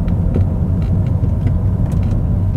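Jaguar X-Type 2.5 V6 engine while driving: a steady, smooth low rumble and hum from the cabin, continuous and even with no talk over it.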